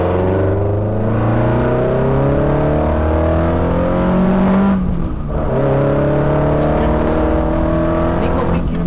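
An Alfa Romeo Giulia Twin Spark engine accelerating with a rising exhaust note, heard from inside the car, climbing through the revs, dipping once at a gear change and pulling again, loud and steady under cabin noise.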